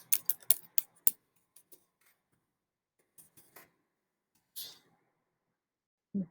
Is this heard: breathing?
no